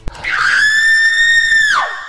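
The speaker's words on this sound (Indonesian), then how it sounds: "Istri Abu Nawas pun berteriak." A woman lets out a loud, sustained scream as a story sound effect, rising sharply after a brief click, holding a steady piercing pitch for over a second, then sliding down and fading.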